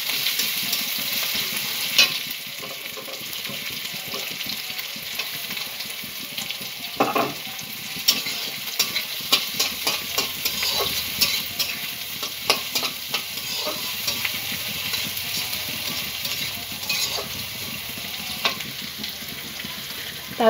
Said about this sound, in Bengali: পেঁয়াজ, আদা, রসুন এগুলো ভালো করে ভেজে নিচ্ছি।